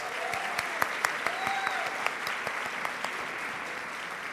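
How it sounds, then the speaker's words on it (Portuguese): An audience at a university lecture claps steadily for about four seconds, a dense wash of applause with a few louder individual claps standing out. "professora Carla Françoia, a quem eu peço uma salva de palmas"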